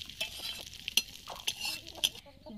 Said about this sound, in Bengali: ফোড়নটা ফুটে গেছে, এবার আমি হাঁড়ির মধ্যে ঢেলে নেব